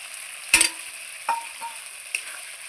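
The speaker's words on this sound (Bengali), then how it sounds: "এই মশলার সঙ্গে আমি যে টমেটো পেস্টটা দিয়েছি সেটা সুন্দর করে ভেজে নেব" Tomato paste frying in a spice mix for Bengali pabda fish curry: a faint, steady sizzle with a few sharp stirring clicks scattered across it.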